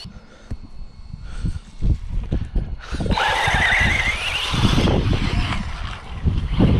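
A Corally Radix 6 RC car brakes hard after a fast run, with a rising whine and a burst of tire scrub and gravel noise, close and fairly loud over crunchy, gusty background.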